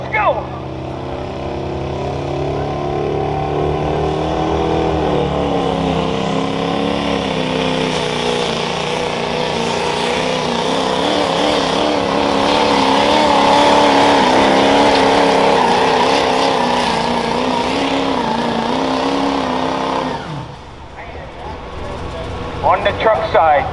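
A Chevy pulling truck called Causing Trouble at a truck and tractor pull at the Hartford Fair, its engine roaring loud and sustained for about twenty seconds, swelling midway, then dropping off sharply, with voices over it.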